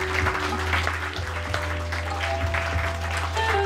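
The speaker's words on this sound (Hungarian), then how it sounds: "Nagy taps jár nekik tényleg" Audience applause at a fashion show, a steady dense wash of clapping that holds at an even level throughout, with no talk over it.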